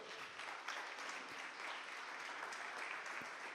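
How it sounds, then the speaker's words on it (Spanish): A church congregation applauds during a sermon, a soft, continuous patter of many hands heard faintly and evenly from a distance. "Denle el aplauso al Señor."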